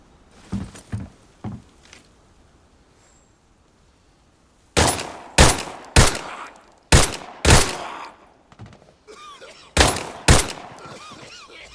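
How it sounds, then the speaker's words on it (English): Pistol shots in the shooter Arena Breakout, a loose burst of sharp reports: a few lighter pops early, then a tight cluster of five loud shots followed by two more. "I just shot him 4 times, he has like no armor, and he didn't die."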